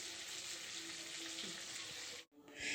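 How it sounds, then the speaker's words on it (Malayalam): Mackerel frying in hot oil in a pan, a dense continuous sizzle close up that cuts off briefly before resuming loudly. "അങ്ങനെ നന്നായിട്ട് അയലകളെല്ലാം നന്നായിട്ട് പൊള്ളിച്ചെടുക്കാം."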